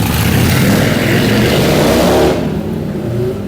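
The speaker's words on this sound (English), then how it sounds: "Apologies for the motorbikes." Motorbike engines pass loudly nearby on a street in Porto, a steady droning roar that cuts off abruptly partway through, leaving a quieter rumble.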